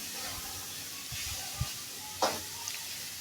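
Potatoes frying in a pan for veg chowmein, a spatula stirring them now and then: a steady soft sizzle and hiss with a few faint scraping knocks, heard close and alone.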